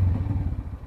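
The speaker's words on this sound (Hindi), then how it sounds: "अभी हमने यहाँ से बाइक निकाला है" A motorcycle being wheeled out, heard as a loud low rumbling engine with clattering and thumps close by, continuous throughout with no talking.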